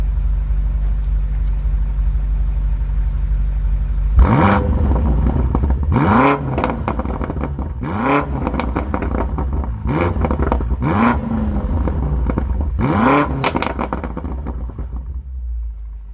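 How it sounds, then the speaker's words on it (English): A deep BMW M8 Competition twin-turbo V8 exhaust idles steadily in Sport Plus mode, then is revved hard several times in sharp bursts, each rising to a loud roar before dropping back to idle. "let's hear how it sounds."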